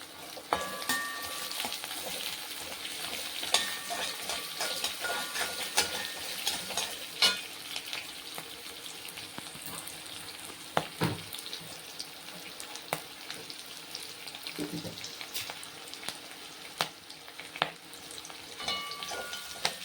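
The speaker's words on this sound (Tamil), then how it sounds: "நல்லா கொஞ்சம் வெங்காயம் வதங்கணும்" Onions and green chillies sautéing in a pan for Chettinad-style cabbage poriyal, a faint continuous sizzle broken by scattered clicks and scrapes of stirring, close by with no talking.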